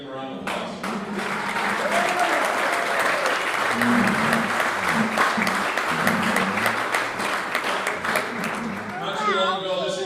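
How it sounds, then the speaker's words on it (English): An indoor audience gives sustained applause for law enforcement officers, dense clapping that builds and holds, with voices speaking over it. "Let's give them a round of applause."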